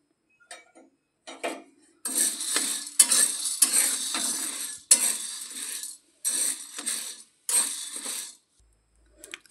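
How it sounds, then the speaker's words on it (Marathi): Soybeans dry-roasting in a pan, stirred in bursts so the hard beans rattle and scrape against the metal in short, close, crisp clusters separated by silent pauses. "तर मी सोयाबीन छान असं भाजून घेते."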